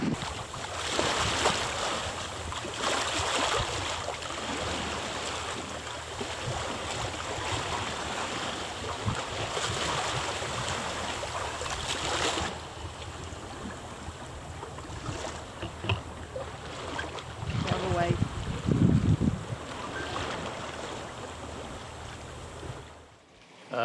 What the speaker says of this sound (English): Just the swoosh of the waves